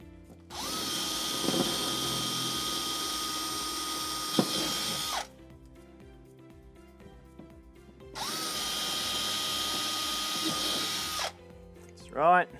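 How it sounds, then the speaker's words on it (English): Power drill boring a pilot hole for a screw while installing an Aquasana OptimH2O reverse osmosis water filter kit, two loud sustained whirring bursts of several seconds each, close up, with a brief pause between them. "We'll just put a little pilot hole in there so it's easy to get the drill a screw in"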